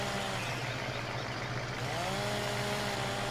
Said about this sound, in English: So we'll continue to cut this down. We are using the steel chainsaw